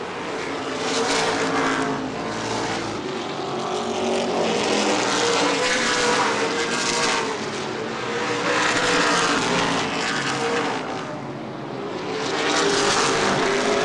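Late model sportsman stock cars race at speed around the oval at Angola Motorsport Speedway, engines roaring loud and steady with repeated surges as cars pass, a continuous dense wall of engine noise throughout.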